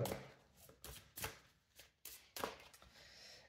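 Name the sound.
oracle cards being laid out on a table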